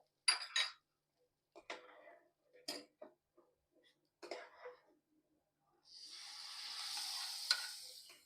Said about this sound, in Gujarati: આ વઘારને છે ને આપણે એડ કરી દઈશું અંદર